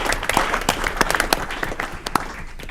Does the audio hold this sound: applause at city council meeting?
yes